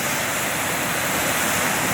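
Creek water on a South Cumberland forest day hike rushes loudly and steadily throughout as a continuous, close, hissing roar with no pauses or voices.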